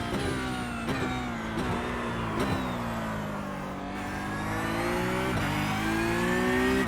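Porsche 911 Cup race car engine in the iRacing game, revving steadily with rising and falling pitch through gear changes, loud and continuous throughout with no talk.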